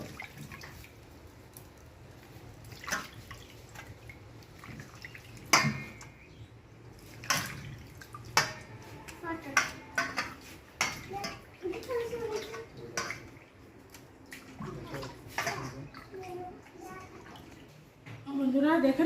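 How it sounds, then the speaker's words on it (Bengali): Cut fish being washed in water: intermittent splashing, sloshing and dripping, close and moderately loud, with voices talking in the background. "মাছটা কাটলাম, কেটে এখন ধোবো"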